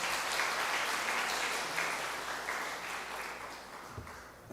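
A church congregation at Sunday worship gives warm applause welcoming a visiting pastor from Yushan Theological College; steady, fairly faint clapping from many hands that slowly tapers off.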